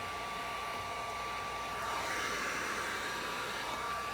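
A heat gun blows a steady, even roar while heating dark carbon vinyl wrap on a 2015+ Dodge Challenger taillight, close and unbroken.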